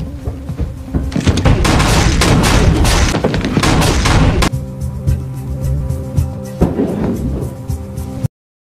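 Loud bursts of gunfire and heavy booms crash through a dense action-film soundtrack for several seconds, as a new weapon is tried on a group of henchmen, then give way to a tonal musical bed.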